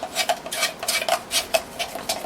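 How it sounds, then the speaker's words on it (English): Oil being stirred into a cold process soap mixture in a container, a utensil scraping and tapping the sides in a quick, irregular rhythm, close and fairly loud. "So I mix that around really nicely so that it's all incorporated"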